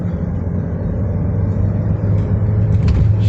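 A car accelerates along an isolated road, a loud close low engine and road rumble that builds slightly toward the end, with no talking.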